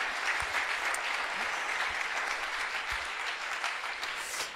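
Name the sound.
applause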